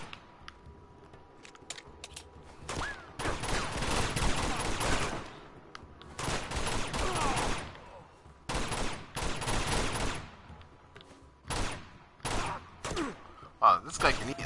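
Gunfire in Uncharted 2 during a monastery fight, with dense automatic bursts and scattered single shots coming in irregular clusters, loud and close, with a voice talking now and then.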